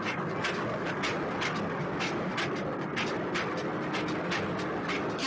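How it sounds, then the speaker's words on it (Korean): Korea's narrow-gauge mini train runs along the coastal line between Suwon and Songdo, giving a steady rolling rumble with regular clicking wheel beats throughout. "우리나라 유일의 협계선 열차인 미니 열차를 찾았습니다"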